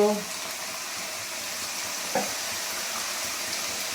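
Garlic sizzling as it is added to a pan for a spicy soybean and potato curry, a soft steady hiss with a brief sharper burst midway and light stirring, no speech.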